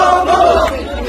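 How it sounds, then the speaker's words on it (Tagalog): Crowd shouting and cheering at a political rally, a dense, loud roar of many voices sustained throughout the short moment. "Sigawan. Sigawan doon, oh."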